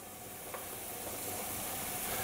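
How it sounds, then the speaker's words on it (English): Fava bean soup boils vigorously in a pot, a steady close bubbling and hissing with occasional small pops, continuous and even throughout. "we got a good vigorous boil going on there"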